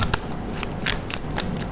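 Tarot cards shuffled in quick riffling bursts, a run of crisp papery flutters repeating about every quarter second, close and fairly loud with no voice.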